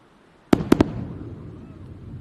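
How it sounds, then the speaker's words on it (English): Three sharp, loud sonic booms in quick succession from a landing SpaceX Falcon 9 rocket booster, followed by a fading rumble and faint background noise. "there's the sonic booms"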